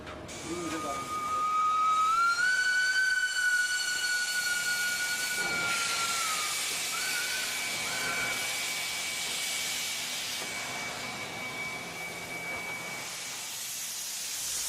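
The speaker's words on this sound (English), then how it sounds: "riding on the footplate of a steam locomotive" A steam locomotive of the Indian railways hisses loudly with steam while a high whistle sounds through the first seconds, then the broad hiss continues steadily and close.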